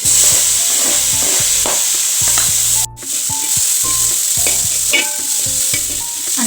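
Onions and tomato fry on a stove for a cauliflower and potato masala curry, under a loud, constant sizzle with repeated close scraping stirs of a spoon in the pan and a brief break partway.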